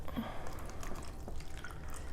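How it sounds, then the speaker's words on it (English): Water poured into a row of cups during a walking-water science activity, with soft trickling and dripping close by and no talk. "So each of those we're going to fill about 3/4 of the way with water."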